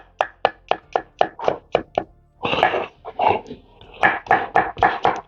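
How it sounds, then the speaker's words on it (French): A knife chops coarsely through fresh garlic on a board outdoors beside a rocket stove, a rapid series of crisp, close knocks, then a brief scraping pause before more quick chops resume. "l'ail frais, je vais le hacher grossièrement"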